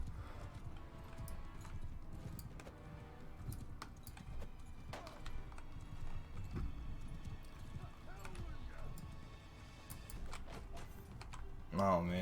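Horse hooves clip-clop steadily in a Mount and Blade: Bannerlord battle, a rhythmic trotting mixed with game combat noise and a brief whinny-like tone near the end, with someone talking over it.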